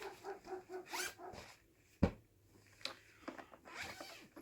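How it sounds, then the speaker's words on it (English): A neighbor's dog barks in the distance, with a few scattered, fairly faint barks and yelps under quiet indoor rustling and a sharp knock, alone without talk. "Oh, that neighbor's dog."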